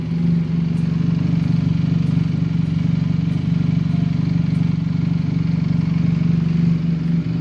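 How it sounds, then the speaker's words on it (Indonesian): A Benelli TNT 250 motorcycle engine idles steadily up close with fresh oil, a continuous low rumbling throb with no revving. "posisi mesin sudah running ya"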